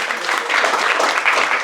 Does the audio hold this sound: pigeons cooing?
no